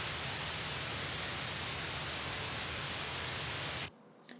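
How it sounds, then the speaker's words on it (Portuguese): Steady broadband white noise hisses loudly and evenly for nearly four seconds, then cuts off abruptly into near silence. "que é um ruído branco"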